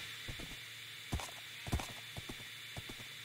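A horse walks in the Minecraft video game, its hooves clopping in an uneven, unhurried rhythm of single and double thuds over a steady background hiss, with no talking.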